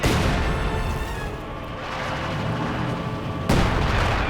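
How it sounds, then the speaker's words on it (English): Artillery fire in a war strategy video game, with a loud boom at the start, rumbling in between and a second sharp blast near the end. "More artillery going in."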